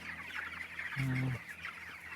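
Healthy 23-day-old chickens clucking nearby, with one louder, drawn-out call in the middle over a steady background of farmyard murmur.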